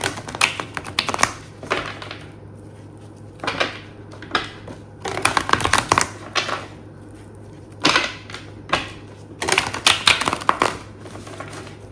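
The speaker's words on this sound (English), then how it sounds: "Do a good hard shuffle." Tarot cards being shuffled hard by hand, sharp riffling and clattering bursts repeating in irregular clusters with brief quiet gaps, close and crisp.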